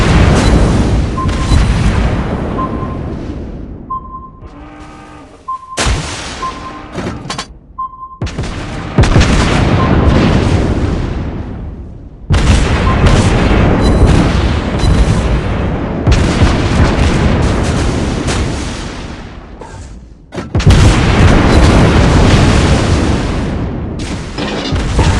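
Repeated heavy booms and explosions from torpedo hits in a naval battle video game, loud and dense, with bursts and rumbling blasts filling most of the stretch and brief quieter gaps between barrages.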